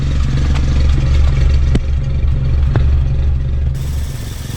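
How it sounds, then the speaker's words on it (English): A 1952 Willys pickup truck engine with a cracked, failing block idles steadily up close, a continuous low rumble with faint clatter and a few sharp ticks, running alone without talk. "So I'm going to let the truck idle for a while, let it get up to operating temperature"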